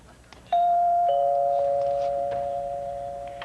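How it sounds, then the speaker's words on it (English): A doorbell rings with a clear two-tone chime that sounds once and lingers as a long fading tone, with faint background noise and no talking. "let's just ring the bell and see who she wants"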